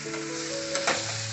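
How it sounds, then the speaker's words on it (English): Quartered mushrooms fry in butter and garlic in a pan, giving a steady close sizzle with a brief louder crackle of stirring partway through, with no voices. "as the mushrooms are frying up here"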